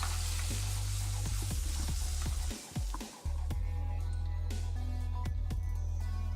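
Rack of lamb searing in a pan while butter is spooned over it, a steady close sizzle punctuated by spoon clinks against the pan, with a brief quieter gap midway.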